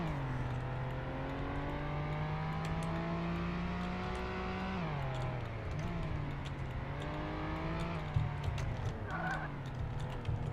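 Police car engine in the video game Flashing Lights, a sustained droning rev that rises and dips with gear changes, with brief tire squeals near the end.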